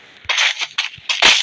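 Rapid gunshots from the mobile battle royale game Free Fire MAX, several sharp cracking bursts in quick succession over about a second and a half, loud and close.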